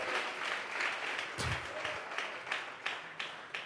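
A church congregation applauds as an offering to God. Broad clapping fades out, then a few sharper individual claps tail off near the end.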